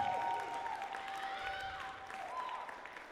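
Audience members clap at a video game music ensemble concert, with moderate applause under a faint lingering tonal ring, tapering slightly toward the end.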